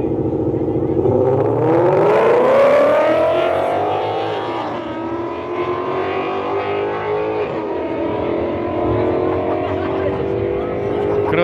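Drag cars, including a red Mustang GT, launch side by side at Autódromo Moisés Solana, a loud rising engine howl that climbs through the gears and then fades into a steadier drone, with people talking nearby.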